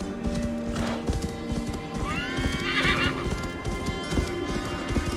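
Horse in Assassin's Creed Valhalla galloping with steady rapid clip-clop hoofbeats, a clear whinny rising midway, over continuous game ambience and music; no talk.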